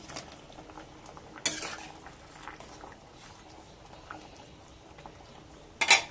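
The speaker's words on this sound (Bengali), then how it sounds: "এবার আমি ভেজে রাখা বেগুনগুলো দিয়ে দিলাম" Fried eggplant pieces tip into a pot of half-boiled potatoes, giving soft low scraping and clattering of a utensil against the pot, with a couple of sharp metallic clinks near the start and end.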